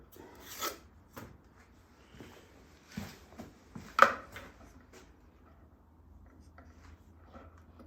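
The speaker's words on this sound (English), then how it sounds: "My old friend, the sander." A handheld sander works a drum headplate with short, rasping bursts in an uneven rhythm, close and moderately loud, with one sharper scrape standing out among the strokes and quiet gaps between them.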